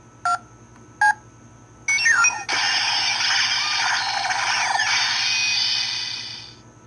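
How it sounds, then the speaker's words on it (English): Bandai Phone Braver 7 toy phone: two short keypad beep tones, then a burst of bright electronic effects swelling into a sustained synthesized tone that fades, all close and loud with no talking. "depending on what keys you press and in what order, you can play different sounds."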